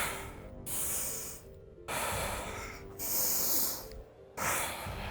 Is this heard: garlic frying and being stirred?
no